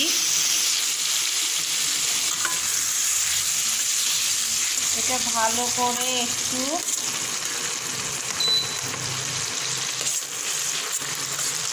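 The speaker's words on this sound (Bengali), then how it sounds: "কড়াইয়ে তেল গরম করে একে একে সব দিয়ে দিচ্ছি। প্রথমে দিয়ে দিচ্ছি পেঁয়াজ কুচানো" About a cup of chopped onions frying in hot oil in a wok (kadai), the start of a filling for a prawn and pointed gourd dish. A steady, close hiss of sizzling runs throughout, with a brief spoken voice over it.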